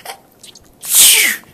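A single sharp, hissing sneeze bursts out loudly after a quiet moment, voiced by a person imitating it.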